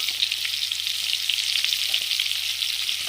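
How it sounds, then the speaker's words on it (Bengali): Egg frying in a pan with salt and turmeric powder, giving a steady, dense sizzle throughout, fairly loud and close, with faint stirring clicks and no voices. "এখন ডিমটা ভেজে নিব।"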